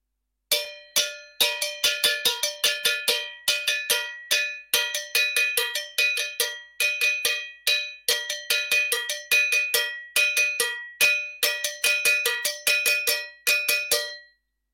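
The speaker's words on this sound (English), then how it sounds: "the bongo bell and the timbales bell being played together," Two cowbells, bongo bell and timbales bell, clang together in busy interlocking salsa rhythms, a dense stream of bright metallic hits, loud and close, no voices.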